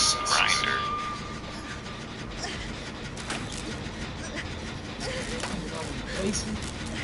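A grinder whirs and grinds steadily, close and rough with metallic scraping and brief rattling bursts throughout, under faint background voices.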